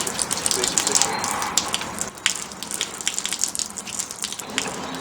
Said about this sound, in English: Keep the brush on the window as we rinse.